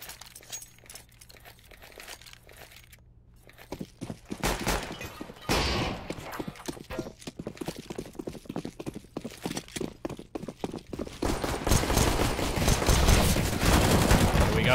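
Counter-Strike pistol fire on the Mirage map during a competitive esports match, with rapid cracking shots and clattering bursts building to a dense, loud stretch of gunfire near the end, under faint commentary.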